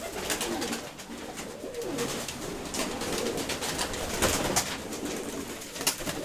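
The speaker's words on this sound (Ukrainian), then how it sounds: "Красиві голуби." Pigeons coo softly amid a busy scuffle of fluttering, pecking and shuffling sounds, steady throughout with a few sharper clicks, no one talking.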